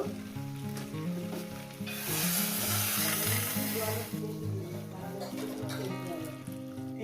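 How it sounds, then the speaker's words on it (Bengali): Boiling water poured into a frying fish curry of bhangan fish with potato and brinjal: a steady hiss and bubbling surge swells in the middle over a continuous sizzle, while music plays underneath. "একদম গরম জল দিয়ে দেবো ফুটন্ত"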